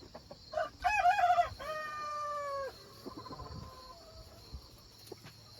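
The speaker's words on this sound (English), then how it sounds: "What do you think, chickens?" Chickens on a farm pasture, including Marans and Buff hens, with a rooster crowing loudly near the start, followed by softer clucks and squawks against quiet outdoor background noise.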